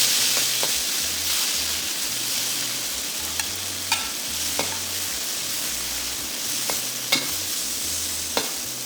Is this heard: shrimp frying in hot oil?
yes